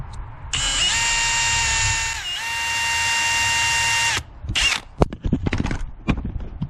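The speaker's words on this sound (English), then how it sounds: "I just drilled straight and damaged the pin." A power drill whines at high speed drilling into the ignition lock of a 2004 Acura TL for several seconds with a brief dip in pitch, then stops, followed by clattering metallic taps and scrapes.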